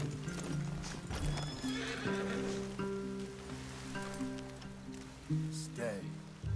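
Horses in the video game Red Dead Redemption 2, neighing and whinnying over the clip-clop of hooves, with rain pattering and background game sounds, fairly close and continuous.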